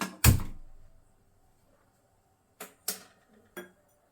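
A pan set down on a stove while making tomato chutney gives a loud metallic clunk at the start, then after a pause three or four lighter clinks and taps. No talk.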